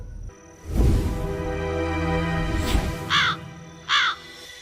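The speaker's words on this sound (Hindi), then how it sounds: "कमीने कौवे, तू यहाँ क्या कर रहा है?" A crow caws in a comedy sketch: close, harsh calls open the clip, then two shorter caws follow with brief gaps between them.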